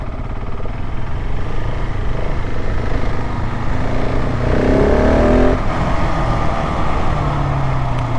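A 2024 KTM 690 SMC R single-cylinder supermoto accelerates in a steady, loud, continuous engine drone, rising briefly in pitch mid-run before settling, with wind noise and no talk.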